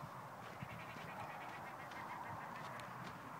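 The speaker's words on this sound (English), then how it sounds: "Quiet down, little birdie bird." A domestic bird honks and quacks in short repeated calls over a steady background hum, close by and moderately loud, with no voices.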